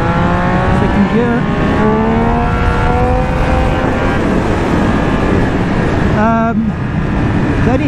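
A Triumph Speed Triple 1200 RS motorcycle pulls away in second gear, its engine note rising steadily with loud wind rush, then briefly dropping and climbing again around a shift near the end.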